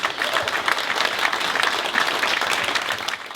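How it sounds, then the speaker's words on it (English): Crowd applause at a Remembrance Day gathering at Charlton football club, loud, dense clapping sustained across the whole moment with slight swells. "Give him a big round of applause"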